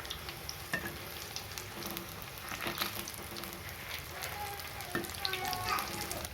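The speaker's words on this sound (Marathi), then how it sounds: "छान असे आपल्याला लालसर तळून घ्यायचे आहे ते भजे." Onion pakoda (bhaji) deep frying in hot oil, a close, continuous crackling sizzle with small pops throughout, and a voice speaks faintly beneath it.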